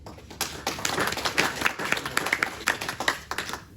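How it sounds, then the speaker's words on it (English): Audience at a property investors association evening giving a warm round of applause for a speaker, a fairly sparse scatter of individual claps from a modest room, close and steady for a few seconds. "I'd just like everyone to give him a warm round of applause"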